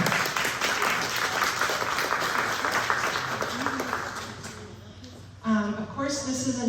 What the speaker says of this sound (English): I'd just like to give a warm applause for Caroline and all of her